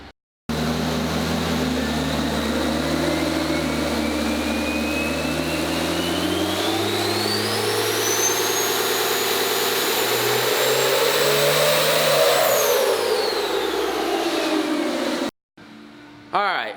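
Modified fourth-generation diesel pickup truck revving on a dyno with an AirDog 165 and coolant bypass, the engine note and turbo whine climbing steadily for many seconds before the throttle lifts, loud and close, then a brief quieter tail.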